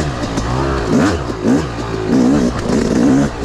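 A Yamaha YZ250 two-stroke dirt bike in woods setup, with a head and flywheel weight, revs up and down repeatedly close by, its blipping engine rising and falling in quick bursts.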